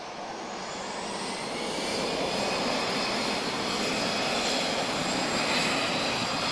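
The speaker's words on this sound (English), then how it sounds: "This is an A320-214 retrofitted with Sharklets. She's off to Paris" easyJet Europe Airbus A320-214 retrofitted with Sharklets taking off at Lisbon Airport, a steady broadband jet engine roar that swells slightly and holds, heard from a distance outdoors with no talk.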